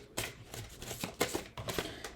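A tarot card is drawn from the deck, giving a run of soft papery shuffles and slides with a few sharper flicks, fairly quiet and close, with no voice over it.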